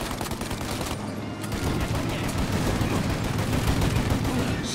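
Dense, sustained gunfire crackles loudly throughout in Mafia: Definitive Edition, rising slightly in intensity after a brief lull near the start, with voices faintly mixed in.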